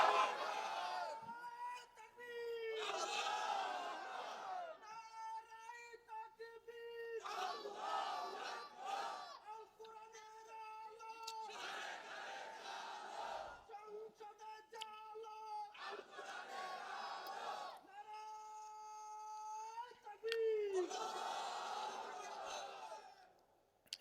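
A crowd at an Islamic religious gathering chants takbir (Allahu Akbar) in repeated loud, unified bursts answering a preacher, with short pauses between each shout.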